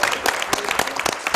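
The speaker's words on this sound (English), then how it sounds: "So 1 round of applause for us." Clapping from a small group, a burst of scattered handclaps with uneven rhythm, fairly close and steady throughout.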